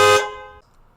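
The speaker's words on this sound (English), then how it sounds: "the sound of a car honking" A single car horn blast, loud and close, holding for a fraction of a second before cutting off into quiet room tone.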